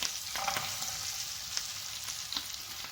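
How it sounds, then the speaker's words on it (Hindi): Almonds, pistachios and dried dates fry in hot butter over a low flame, giving a soft, continuous sizzle with light crackles and occasional small clinks of stirring, close and fairly quiet. "अब हम इसमें ऐड करेंगे अपने बादाम, पिस्ता और"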